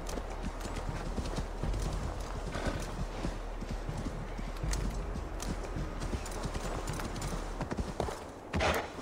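Steady clip-clop of horse hooves in Assassin's Creed Valhalla, a continuous rhythmic trot mixed with game ambience, with a brief snort or whinny-like burst near the end.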